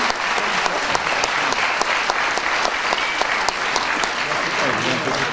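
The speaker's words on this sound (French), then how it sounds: "Oui, vous pouvez les applaudir, les jeunes." Steady applause from an audience for young athletes, dense continuous clapping throughout with a few sharper claps standing out.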